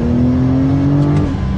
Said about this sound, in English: That's electric car like acceleration.